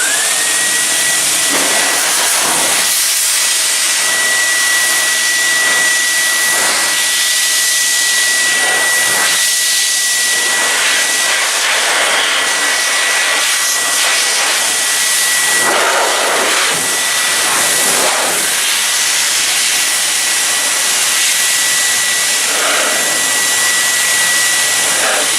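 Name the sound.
blow dryer drying a coated vehicle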